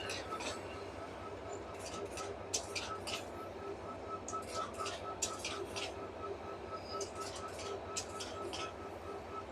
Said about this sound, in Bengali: অলরেডি কাউনিয়া জংশনে 30 সিরিজের ইঞ্জিনটি প্রবেশ করছে